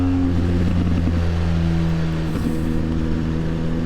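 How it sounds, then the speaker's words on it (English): Motorcycle engine holding a steady, loud drone as it accelerates out of a hairpin on a curvy road, with harmonic tones rising slightly and no talk. "Steer in to the apex and accelerate out in your lane."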